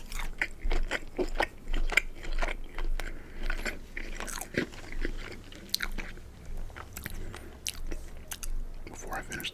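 Crunchy bites and chewing of Chick-fil-A chicken nuggets and spicy tenders, close and loud, with repeated crisp crunches and wet mastication running steadily throughout.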